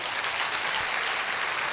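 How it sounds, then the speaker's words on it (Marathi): An audience at a school annual function claps loudly and evenly, a dense continuous applause that never lets up. "त्यांच्यासाठी एकदा जोरदार टाळ्या होऊन जाऊ द्या"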